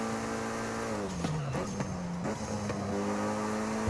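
A mid-engine, rear-wheel-drive V12 car in Forza Horizon 5 drives hard, its engine note rising and dipping through gear changes and cornering, with tire squeal and no talk.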